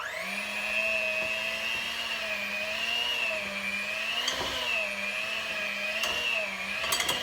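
A stand mixer whirs steadily while kneading garlic rosemary wheat bread dough, its motor humming in a continuous, slightly wavering drone with a few brief knocks and clicks near the end.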